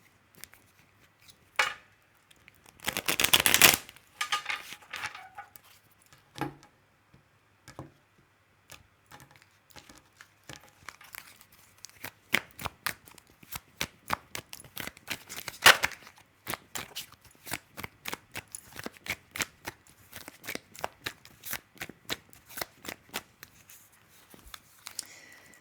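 Tarot cards are shuffled and handled in quiet, uneven bursts of crisp riffling and soft slaps, close and faint, with a couple of louder flurries.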